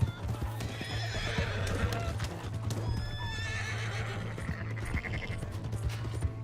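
Hooves clip-clop at a gallop in the Red Dead Redemption II video game while a horse neighs and whinnies, loud and continuous, with game sounds in the background.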